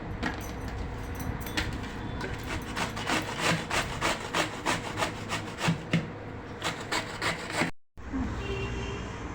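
Raw green mango is scraped across a coarse grater in quick, regular rasping strokes, close and fairly loud, before a brief pause and a quieter stretch; no voices.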